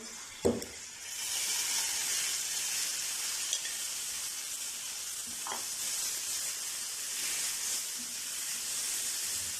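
Spices and ginger garlic paste frying in a pan for an egg dish: a faint, steady hiss and sizzle with a couple of soft knocks of a utensil, no voices.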